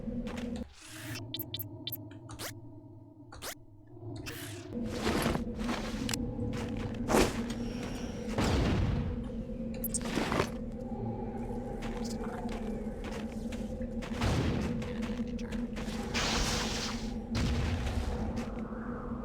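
A rocket turret firing in the video game Deus Ex: Invisible War gives a series of sharp thumps and booms at irregular intervals over a low humming ambience, moderately loud.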